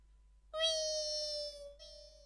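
On a Malayalam comedy stage show, a performer imitates a cat meowing while fish is being cut: one drawn-out, tonal meow that bends slightly, then a short second mew, heard alone in near silence.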